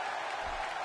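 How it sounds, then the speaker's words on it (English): Crowd applause in a WWE wrestling video game, a brief dense wash of clapping and crowd noise at steady loudness. "Would you listen to this crowd show their appreciation for these amazing competitors?"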